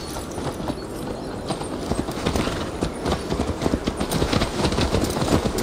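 Horse hooves clip-clop at a quick, steady riding pace in Assassin's Creed Valhalla, a dense run of close, crisp hoofbeats over a faint background bed, with no talking.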